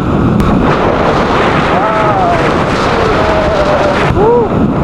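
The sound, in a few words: strong wind blowing into the microphone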